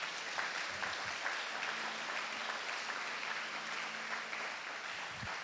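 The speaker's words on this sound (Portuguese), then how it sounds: "Pode dar uma salva de palmas para Jesus" Congregation in a church service applauding steadily and fairly quietly, a continuous wash of many hands clapping at a distance with a few faint low thumps.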